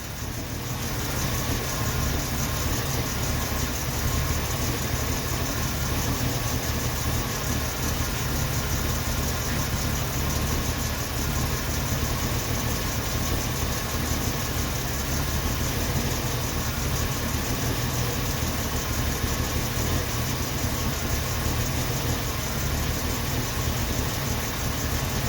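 A 1990 Jeep Wrangler engine idling after its idle screw was found turned all the way in, a steady rumbling drone that holds unchanged throughout, no speech.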